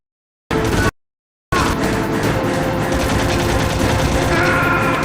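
Gunfire in the Metal Gear Solid video game: a short burst, a brief gap, then sustained rapid automatic fire that runs loud and continuous to the end.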